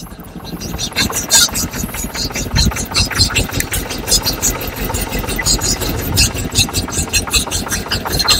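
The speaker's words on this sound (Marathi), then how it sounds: "होडी स्टार्ट करतोय" A fishing motorboat engine starting up sputters and revs in rapid, uneven pulses at Trombay Koliwada, and a voice speaks briefly over it.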